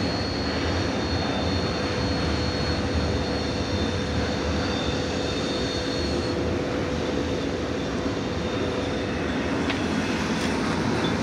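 Norfolk Southern SD70ACe diesel locomotives passing by, a loud, steady engine roar with a sustained tonal hum, continuous and close throughout with no voices.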